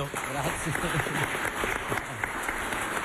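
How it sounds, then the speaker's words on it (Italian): Audience applause during an event in Catania, steady clapping filling the clip with a voice speaking briefly over it. "Facciamo un applauso"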